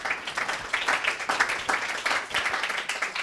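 An audience at a literary book event for author Rachel Kushner claps steadily, a dense, even wash of applause heard close and unbroken throughout.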